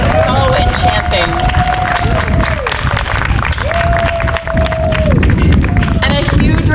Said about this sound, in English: Can we get another big round of applause to the other performers that have gone so far?